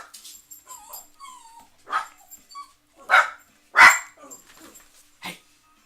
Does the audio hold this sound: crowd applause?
no